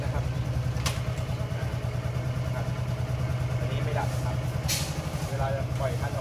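A Yamaha Spark135 motorcycle fitted with a hand clutch conversion idles with a steady low throb, with small clicks and knocks as gears are shifted; someone talks over the engine.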